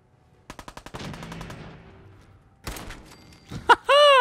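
Rapid bursts of automatic gunfire in Fallout 4 on PC: a quick rattling volley, a decaying tail, then a second loud burst and some sharp electronic game effects, with no talking.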